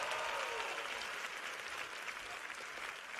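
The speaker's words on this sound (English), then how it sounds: "Round of applause for the parents." Audience applause at a graduation ceremony at NYU's Tisch School, a steady wash of many hands clapping that stays dense and even throughout, gradually easing slightly in loudness, with no voices over it.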